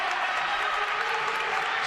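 A basketball crowd at a men's college game roars steadily as fans call for a defensive stand, a dense, sustained wash of cheering with no clear breaks.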